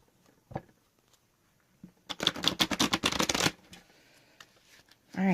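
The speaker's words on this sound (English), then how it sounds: "And I'm going to do one more of these big shuffles." Tarot cards being riffle-shuffled in one burst of dense, rapid flutter lasting about a second and a half, preceded by a single soft tap and followed by quieter card handling.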